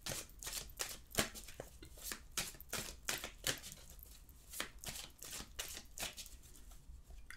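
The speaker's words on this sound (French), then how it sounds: "On va prendre le petit Lenormand pour voir ce qui ressort. Donc je mélange un petit peu." A deck of Petit Lenormand cards is shuffled by hand up close, giving a rapid run of crisp riffling and rustling bursts in an uneven rhythm, with no talking.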